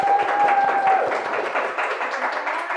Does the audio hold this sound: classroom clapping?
yes